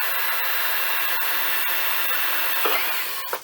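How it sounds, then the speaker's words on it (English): A drill bores a hole into a plastic cap for a homemade fish stick, giving a steady, loud high-pitched whir with a few faint ticks, then stopping abruptly at the end. "I'm going to take this cap and I'm going to drill a hole right"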